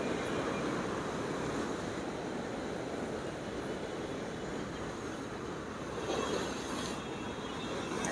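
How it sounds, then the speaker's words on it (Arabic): Steady ocean surf roars continuously against rocks along the Alexandria corniche, with a slight swell near the end, broad and unbroken, with no voices. "في ارتفاع للامواج زي ما احنا شايفين."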